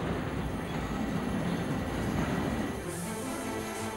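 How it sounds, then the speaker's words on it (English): Equipment trains roll out of a rail support facility bound for Penn Station in New York, a steady, continuous rumble of wheels and cars that stays loud and even throughout. "a lot of equipment trains will be coming out of here"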